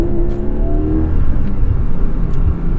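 A 2021 Porsche 718 Cayman GTS with a 4.0 engine and six-speed manual revs and pulls hard from inside the cabin, a loud continuous rumble whose pitch shifts as it accelerates.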